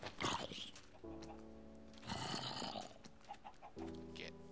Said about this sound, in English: Get out of here, chicken.